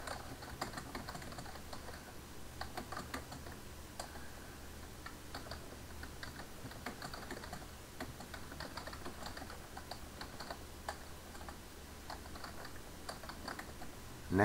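A computer keyboard clatters with steady, continuous typing as a description is written, the quick key taps fairly faint and close against a low background hum, with no talking throughout.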